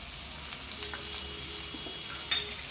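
Finely chopped onions with cumin seeds and ginger-garlic paste frying over high heat, a steady bright sizzle with occasional stirring scrapes and a small pop, close and continuous with no talking.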